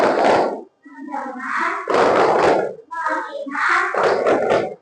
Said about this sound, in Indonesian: Coba Ibu cek tepuk fokus.